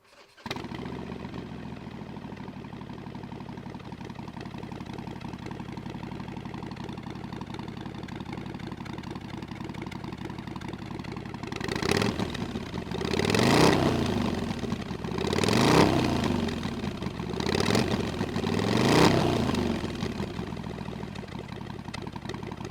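An engine idles steadily through a Shortshots Staggered exhaust fitted with Super Quiet Baffles, then gets three distinct throttle blips in its second half, each swelling briefly before settling back to idle.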